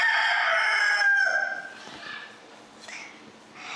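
A rooster crows loudly and close up in a long, ringing cock-a-doodle-doo that fills the first second and a half, followed by fainter farmyard calls and clucks.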